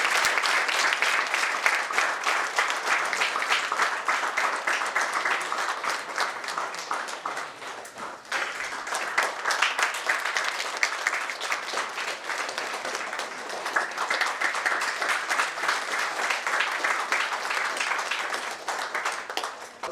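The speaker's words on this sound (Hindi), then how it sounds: "तालियों से हम अपने समर्थन करें।" Sustained audience applause fills a felicitation ceremony at a lecture event, dense and steady clapping that holds throughout with a brief dip midway before swelling again.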